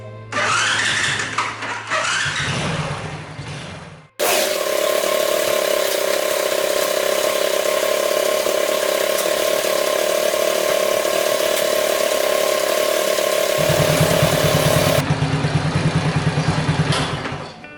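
A Honda Super Cub engine with a scored piston and low idle starts up close by after stalling, then idles steadily with a loud mechanical clatter for about ten seconds.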